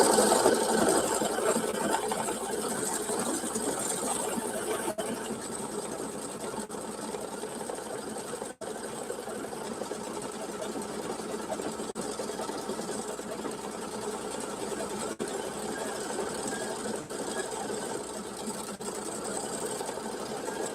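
A computerized embroidery machine stitches out a design in a continuous, even mechanical chatter, steady and moderately loud throughout with only a few brief dips.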